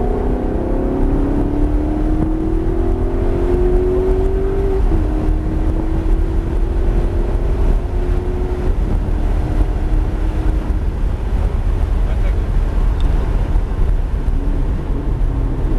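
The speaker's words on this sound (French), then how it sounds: "Accélère, accélère à fond." A Maserati GranTurismo S accelerates hard on a circuit drive, its engine note climbing steadily in pitch, then dropping at a gearshift before rising again, all under heavy constant wind and road roar.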